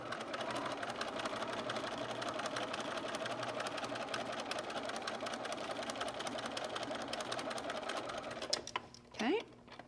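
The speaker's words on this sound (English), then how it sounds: "And now I'm going to sew the second piece on." A sewing machine stitching felt stocking pieces with ribbon runs in a fast, steady mechanical whir of rapid needle strokes. It is close and continuous, then stops near the end as a brief sound follows.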